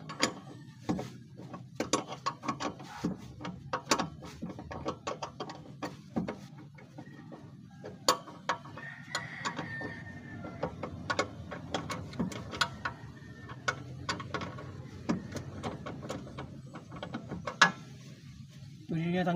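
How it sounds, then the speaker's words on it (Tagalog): A ratchet tightens a shock absorber bolt on a Hyundai Eon during coil spring bushing work, making quick bursts of close metallic clicking in an uneven rhythm against quiet garage background. "Pagkatapos itong higpitan tong bolt ng shock absorber"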